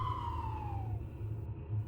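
Ambulance siren pulling up on a residential street across from a house, a single steady wailing tone sweeping downward as it passes, heard alone at moderate loudness.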